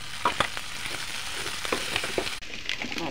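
Beef innards fry in a pan while being stirred, a steady loud sizzle broken by scraping spoon strokes and soft clatter, with no voices.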